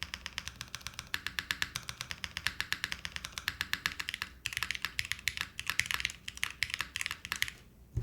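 Firm typing on a Keywork mechanical keyboard: a close, steady stream of crisp key clacks in quick bursts, with a brighter, faster flurry near the end.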